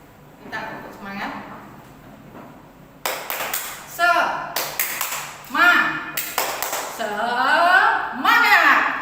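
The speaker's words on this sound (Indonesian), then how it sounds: "Kita tepuk semangat Bapak Ibu ya." Seated teachers at a training session perform a rhythmic group 'spirit clap', bursts of sharp synchronized claps in patterned sets between a leader's spoken cues, with voices chanting along.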